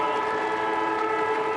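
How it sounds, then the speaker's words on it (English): A loud, steady siren sounds at half-time of a 2012 AFL match between Fremantle and Geelong, one sustained blaring tone that holds unbroken throughout with no voices over it. "Siren sounds."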